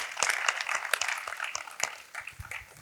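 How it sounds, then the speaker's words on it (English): A lecture audience claps together in a short burst of applause, dense overlapping hand claps that thin out toward the end. "we can clap for our own country"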